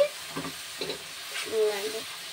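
Cashew paste stirred and fried in a pan for a catering-style curry, giving soft scraping strokes over a low sizzle, close and fairly quiet, with a brief tonal murmur near the end.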